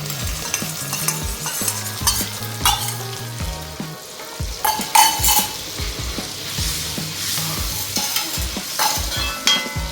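A cornflour mixture goes into a hot pan of gobi manchurian and is stirred through, giving loud continuous sizzling and frying with repeated scraping and knocking from the spoon.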